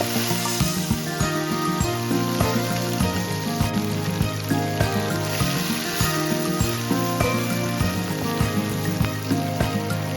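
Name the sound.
kangkong stems and garlic stir-frying in a pan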